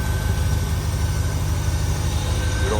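Deep, steady rumble of a 1968 International D 1100 truck with a 304 engine idling smoothly, heard close and constant throughout, with no talk.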